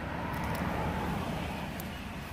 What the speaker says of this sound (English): sorry about the noise of cars